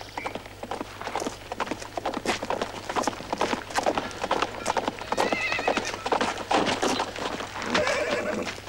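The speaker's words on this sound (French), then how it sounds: "Un homme à cheval!" A horse gallops with rapid, uneven clip-clop hoofbeats throughout, punctuated by loud neighs and whinnies, close and prominent over a low steady hum.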